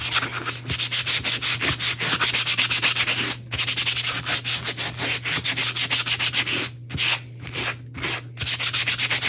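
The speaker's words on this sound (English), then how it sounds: "just kind of giving it a quick little sanding here" Sandpaper rubs rapidly back and forth over a Chalk Couture craft piece in a fast, even rhythm of close, loud scratchy strokes, broken by a few short pauses, with a steady low hum beneath.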